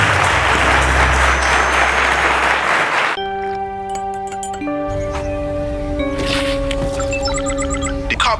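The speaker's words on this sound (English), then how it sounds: "a round of applause to our teachers." On a televised teachers' episode of a quiz show, a studio audience gives teachers a strong burst of applause lasting a few seconds, which cuts abruptly to bright electronic chimes and synthesized tones.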